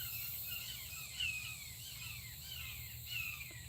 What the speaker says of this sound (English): Y'all hear them hawks?